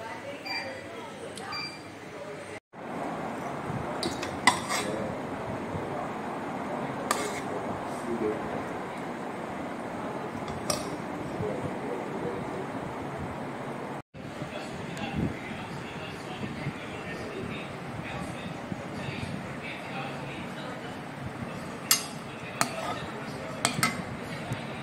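Dishes and cutlery clink and clatter in a kitchen as a dinner of rice, mashed potato and egg curry is served, with scattered sharp knocks over a steady background and a voice talking at times.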